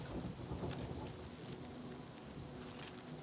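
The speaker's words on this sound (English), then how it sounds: "Why is it raining?" Steady rain pours with rumbling thunder in the Gold Coast area of the video game Oblivion, a dense, continuous wash of rainfall with low rolls of thunder and no talking.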